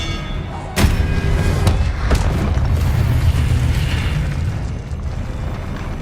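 A spell cast in the Hogwarts Legacy video game lands as a sharp burst near 0.8 s, then a dense rumble of magical impacts and mechanical noise continues loud and steady, with a couple of further thuds.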